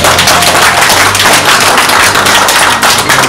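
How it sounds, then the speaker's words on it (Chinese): Steady, loud applause from an audience at a painter's art exhibition in Los Angeles, dense overlapping claps sustained evenly throughout with no voices over it. "大家掌声鼓励"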